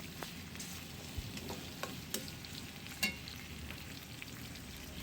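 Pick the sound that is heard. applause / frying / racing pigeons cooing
frying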